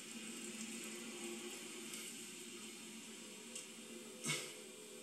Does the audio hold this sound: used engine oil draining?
yes